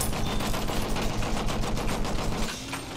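Rapid, dense machine-gun fire from a tank-mounted gun in the Battlefield 1 video game, loud and continuous, easing slightly in the final half second.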